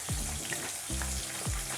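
Chopped onions and green chillies fry in hot oil, a steady close sizzle with a few brief stirring scrapes, no voices.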